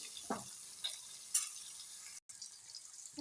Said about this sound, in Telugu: ఇంకో 2 నిమిషాలు బాగా వేగనివ్వాలండి